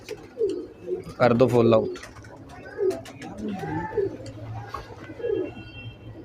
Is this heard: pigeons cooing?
yes